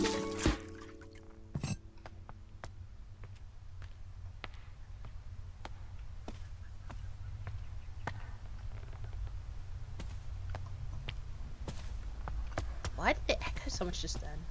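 Light, steady trickling and dripping as water is poured onto soil in the video game Botany Manor, with a few sharp clicks and a voice talking at the start.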